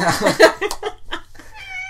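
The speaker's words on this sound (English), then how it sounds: "The cat's coming now" A cat gives a few loud, drawn-out meows and a yowling caterwaul close by, with faint voices and laughter mixed in around it.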